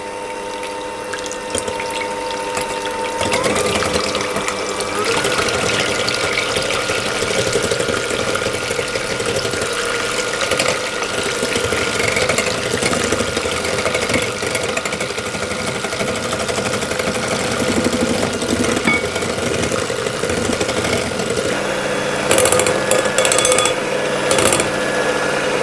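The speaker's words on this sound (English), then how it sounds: "I've whisked that for 2 minutes, and I did that on high speed" An electric hand mixer whisks cake batter with sugar on high speed, a steady loud whirring drone that holds without a break throughout, close up and with no talking.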